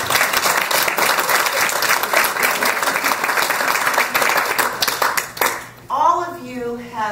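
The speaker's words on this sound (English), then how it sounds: "Clap it up, baby." Dense, steady audience applause fills a wellness talk venue for several seconds, then cuts off abruptly as a voice begins speaking.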